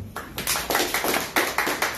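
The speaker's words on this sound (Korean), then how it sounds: "오늘 늦은 시간까지 강의를 해주신 네 분의 패널분들께 다시 한번 큰 박수 부탁드리도록 하겠습니다" Audience applause for four panelists at the close of an artificial intelligence and blockchain panel talk, heard as a loose series of separate, fairly close claps rather than a dense ovation, with no voices.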